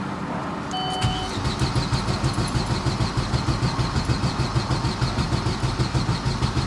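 A built 400-horsepower turbocharged Chevy Cruze engine is keyed and cranked, giving a steady, rhythmic churning pulse that holds for several seconds without settling into an idle, with faint clicks and whirring above.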